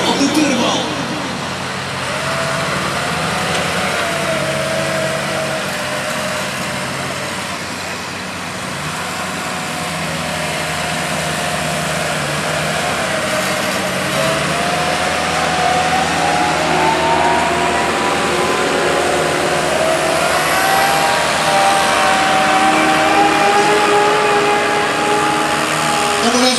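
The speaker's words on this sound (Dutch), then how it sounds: "Met de Leyland 272 van Sjoerd de Vries uit de Kriepen." A Leyland 272 tractor at a 2009 tractor pulling event in Oudehorne roars steadily under a turbo, its engine note climbing toward the end, with a commentator speaking over it throughout.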